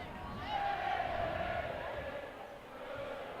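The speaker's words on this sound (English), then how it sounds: "the famous goodbye chant singing by the crowd" A high school basketball crowd at an Olympus versus Highland boys game sings a goodbye chant, a faint sustained sing-song rising from a distant arena under a commentator's voice.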